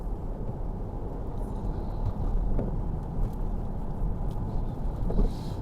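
Jaguar XF S saloon cruising on the road, a steady low engine and road rumble with wind and tyre noise, even and continuous with small swells, no talk.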